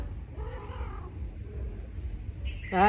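A cat nearby gives a drawn-out meow, then a short, louder one just at the end, over a low background hum.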